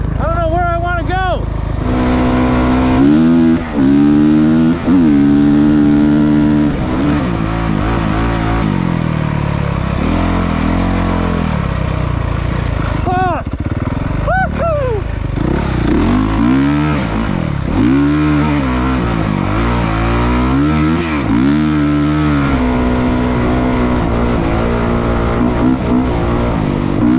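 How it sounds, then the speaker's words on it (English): A dirt bike engine revs and rises and falls in pitch while riding the Silver Lake sand dunes, loud and close throughout, with people talking over it. "Never been on a dirt bike out here."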